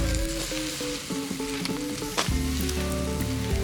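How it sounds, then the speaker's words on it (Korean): Quail frying in hot oil sizzles and crackles steadily and close up, with no talk over it throughout. "기름 자글자글하다."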